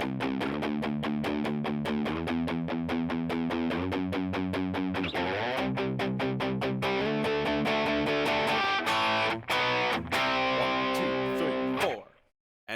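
Heavily distorted electric guitar plays the pre-chorus of a song, dense sustained chords with effects, loud and steady with a few short breaks, then cutting off abruptly near the end.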